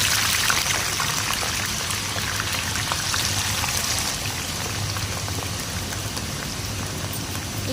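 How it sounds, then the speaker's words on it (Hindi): Potato chips fry in hot oil with a steady, dense sizzle and fine crackling, continuous and close, with no voices over it. "इसे हम थोड़ी देर फ्राई होने देते हैं।"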